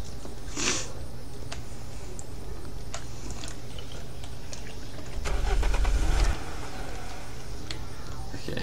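A car engine in the survival video game Unturned cranks and catches in a short low rumbling burst of about a second, following quiet ambient game noise with a few faint clicks.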